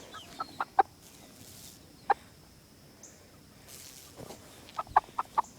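Chickens and chicks on a poultry farm give scattered clucks and short peeps, a few sharp calls in quick clusters over a quiet background of faint farm noise.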